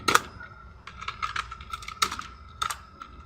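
Quick bursts of keystrokes on a computer keyboard while CSS code is written, close and crisp, with irregular clusters of clicks and short pauses and no voices.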